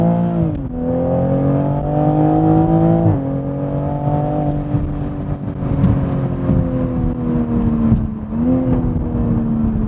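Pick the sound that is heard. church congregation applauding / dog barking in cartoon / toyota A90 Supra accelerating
toyota A90 Supra accelerating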